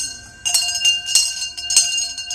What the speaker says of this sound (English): Look, here comes Mr. Putnam with the bell now.